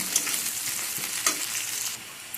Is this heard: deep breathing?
no